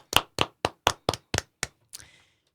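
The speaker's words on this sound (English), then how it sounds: "Let's give a little round of applause for Jeff Pillar, the owner of All City Towing." About eight distinct hand claps in a slow, even rhythm, close and clear, from a single person or a very small group, ending on a softer final clap.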